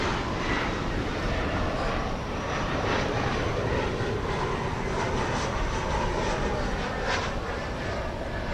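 An American Eagle regional jet at DFW Airport at night gives off a steady, broad engine roar that holds at an even level throughout, distant rather than close, with no voices.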